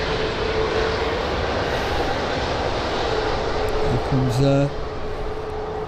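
A Tui airliner accelerating down the runway at Birmingham Airport, a steady broad jet roar filling the scene throughout, with a brief tonal whine near the end and a person speaking briefly over it.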